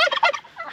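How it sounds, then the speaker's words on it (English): Turkeys gobbling close by in a quick series of loud, rattling calls that fade toward the end of a short burst. "Oh, hello, turkeys."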